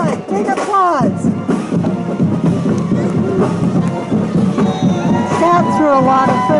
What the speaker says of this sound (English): Give them big applause! Big applause!